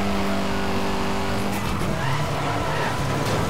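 Car tires squeal and skid through a curve in Need for Speed Most Wanted (2012), a loud, sustained screech over a roaring engine that continues steadily without talk.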